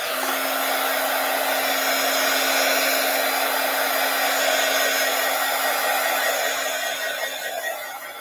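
Hair dryer drying a small dab of paint on a craft project, a steady close whoosh with a firm motor hum held evenly throughout, easing slightly near the end.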